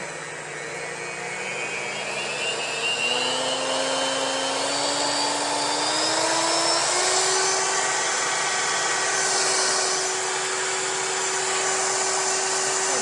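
A Cuisinart electric hand mixer whirs at high speed, a loud steady motor whine that climbs in pitch over the first seconds and then holds, heard close and alone.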